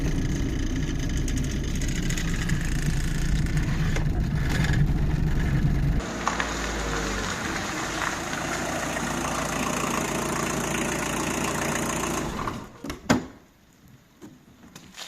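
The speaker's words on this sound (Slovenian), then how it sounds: "Super, avto gre ful dober." A repaired, previously crashed VW Golf 2 runs steadily with a loud, continuous low engine drone and road noise, the tone shifting around six seconds, before it quiets with a few thumps near the end.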